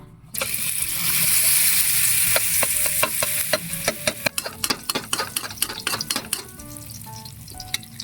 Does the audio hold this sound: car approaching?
no